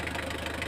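A Mitsubishi 4D56 diesel engine with a hard-starting, injector-related fault idles with a steady, fairly quiet mechanical clatter and hum.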